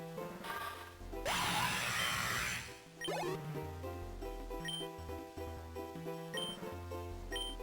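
Drill Peck attack effect from the video game Pokemon Lazarus, a burst of rapid harsh pecking noise set against looping chiptune battle music and short electronic blips, fairly loud, with no voices.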